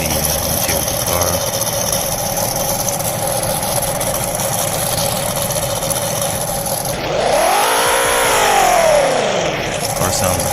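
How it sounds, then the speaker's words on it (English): Car engine in the Roblox game Greenville, a steady mid-pitched idle hum that rises into a loud rev with a sweeping pitch climb and fall near the end. "The car sounds great."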